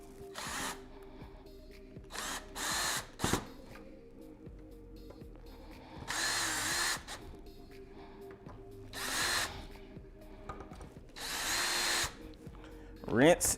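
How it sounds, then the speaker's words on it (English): A power drill driving screws while a gaming PC is assembled, heard up close as several short whirring bursts separated by quiet pauses and small handling clicks. "Now I can drill it down."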